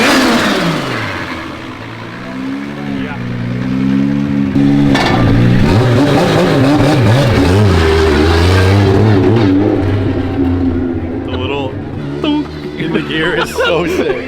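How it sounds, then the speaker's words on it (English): A 1000HP JZ-engined race car runs up close with its straight-cut gears whining, engine note rising and falling loudly while people talk over it. "And then the whine of the straight cut gears."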